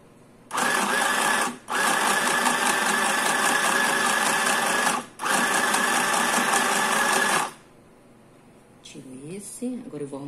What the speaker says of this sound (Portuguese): Deixa eu ver se tá costurando.